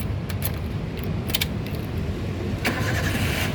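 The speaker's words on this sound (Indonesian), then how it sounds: "nah sekarang kita coba nyalakan mobil" A 2007 Toyota Avanza 1.3 G manual car is started, with a brief click and rattle of keys followed by the low, steady hum of the idling engine, heard close up without talk.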